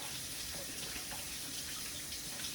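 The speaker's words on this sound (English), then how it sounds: "Just run it under some water and rub it really well in the crevices" Chicken being rinsed under a running kitchen sink tap, with a steady, close, full stream of water hissing continuously and no talk.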